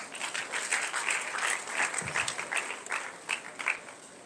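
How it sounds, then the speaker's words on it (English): Freshmen at a University of Calabar orientation clap together in a sustained round of applause, a dense, even wash of hands from a large seated crowd lasting several seconds. "Can we give her a round of applause as she takes the mic?"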